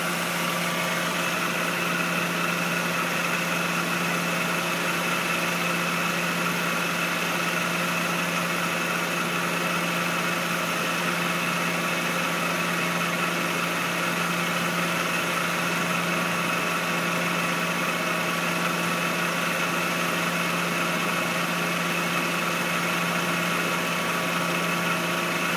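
A 1.8-liter engine in a 2001 Suzuki Esteem idles steadily and alone, a smooth continuous hum with a low tonal drone and light vibration holding even for the whole stretch.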